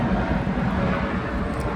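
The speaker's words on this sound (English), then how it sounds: "Okay, helicopter." A helicopter passes overhead, its rotor producing a steady low throbbing drone. The sound fills the whole short stretch at an even level and is heard on its own, with no one talking.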